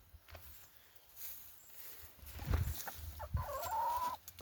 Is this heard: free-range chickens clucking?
yes